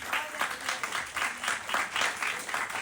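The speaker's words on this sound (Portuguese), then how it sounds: "Quem pode aplaudir o nome do Senhor esta manhã?" A church congregation at a Portuguese-language service bursts into sustained applause, a dense wash of many hands clapping with a rhythmic pulse in the crowd.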